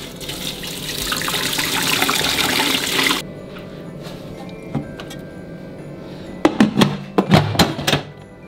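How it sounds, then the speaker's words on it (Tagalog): Water rushes steadily for about three seconds as it is poured into a pot for steaming pork belly, then stops, followed by a few sharp clattering knocks near the end. "Lagyan lang natin ng tubig."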